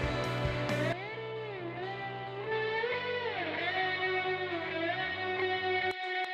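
Thick, heavily distorted electric slide guitar from a country track, with sustained notes gliding up and down in pitch over a dense band backing, loud and continuous with no voices.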